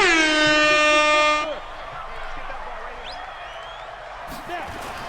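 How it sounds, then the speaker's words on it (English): One loud, close air horn blast with a bright, brassy drone that holds for about a second and a half and cuts off, followed by a quieter bed of crowd murmur in a football video game. "We'll blow the air horn"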